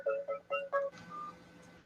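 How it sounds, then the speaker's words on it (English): Phone dialing tones: four short, evenly spaced electronic beeps, then a sustained tone, faint and alone in a quiet room. "Sorry for the phone."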